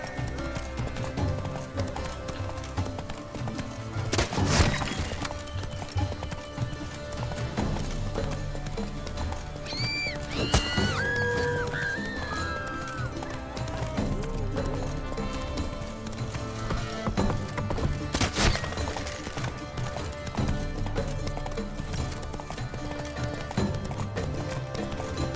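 Roach, a horse in the video game Witcher 3: Blood and Wine, clip-clops steadily throughout, with a couple of whinnies near the middle. Game music and ambience play under the hooves.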